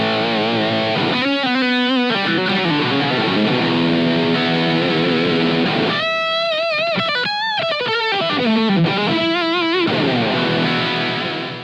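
High-gain rhythm guitar through a Yamaha THR10X amp, heavily distorted chords and riffs played continuously at steady loudness, with sustained notes and short muted chugs, no voices.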